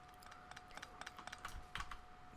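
Keys on a computer keyboard are pressed while playing Factorio, producing quiet, irregular clicks in quick succession, faint and close, with no talk.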